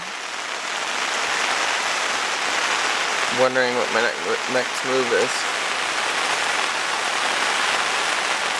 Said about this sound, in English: I'm sitting here in the pouring rain